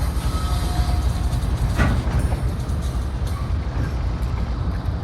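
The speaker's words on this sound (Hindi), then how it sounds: "मालगाड़ी आ चुकी है।" A freight train arriving at Sardargarh railway station, a loud, continuous low rumble of rolling wagons with a brief squeal partway through, close and steady throughout.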